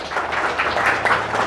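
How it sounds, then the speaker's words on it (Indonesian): Ninth-grade students in a motivation training session applaud together, a dense, even patter of clapping filling the room at steady volume. "Tepuk tangan dulu, ya."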